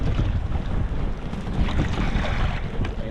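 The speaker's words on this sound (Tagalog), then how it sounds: "Ay naman tang hangin na ito." Strong sea wind buffets a small boat near an island, a steady roaring rush with gusty microphone rumble and water noise throughout, no voices.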